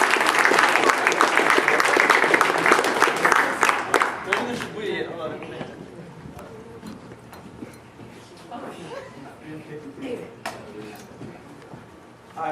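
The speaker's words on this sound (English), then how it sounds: "Give a round of applause." Loud applause from a live audience at a poetry reading, heavy clapping for the first few seconds, then fading to scattered claps and crowd murmur with voices underneath.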